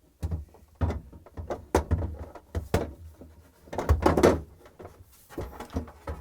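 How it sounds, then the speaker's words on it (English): A drawer is slid back into a GE refrigerator during a defrost thermostat repair, giving a series of close plastic clunks, scrapes and thumps at an irregular pace as it is worked onto its rails. "And we're going to install the drawer back in."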